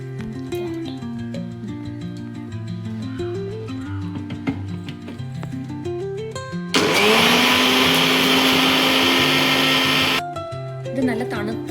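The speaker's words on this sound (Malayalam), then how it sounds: "കുറച്ച് ക്രീം എടുത്ത് നമുക്കൊന്ന് മിക്സിയിലടിക്കാം" A mixer grinder whirs into a loud, steady roar for a few seconds, blending Amul fresh cream for muskmelon ice cream, with talk before and just after it.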